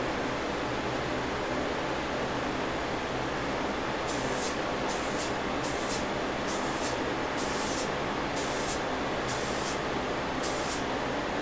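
Short repeated hisses of Krylon gray spray paint from an aerosol can, applied to a Matchbox 1957 Chevy Bel Air model in a home shop, about eight bursts in a steady rhythm over a constant broadband hiss.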